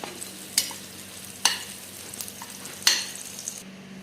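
Garlic sizzles steadily in a pan while a utensil stirs it, making four sharp scraping strokes spaced about a second apart over the constant frying hiss.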